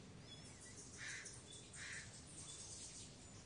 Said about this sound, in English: Let the birds be the birds